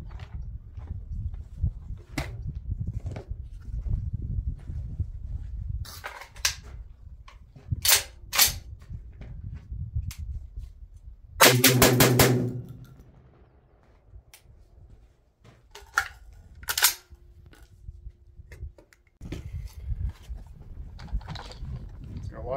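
A Tokarev TT12 pistol fires Winchester White Box ammunition, several sharp close reports spaced irregularly, one with a brief ringing tail, between quieter handling clicks and background rustle.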